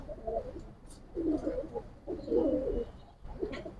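Pigeons coo in repeated soft, low bursts at a pigeon loft in Old Dhaka's Islambagh, several coo phrases rising and falling over about four seconds with a few faint chirps above.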